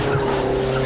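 An Audi TT skids in the racing game The Crew 2 on a long-distance road run, its tires giving a continuous, tonal squeal over a loud engine roar for the whole short moment.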